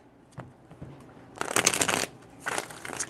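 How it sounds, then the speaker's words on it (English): Tarot cards shuffled by hand in two quick, close bursts of crisp riffling, preceded by a few soft taps. "Four shuffles."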